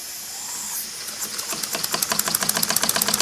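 A small model horizontal steam engine hisses steadily, then picks up a fast, regular chuffing and knocking rhythm as it runs again after reversing, close and fairly loud with no voices.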